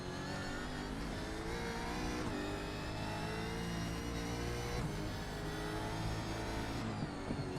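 A loud V8 race car engine in a racing simulator at Bathurst roars continuously, revving up and down through gear changes as the car speeds along, with no voices.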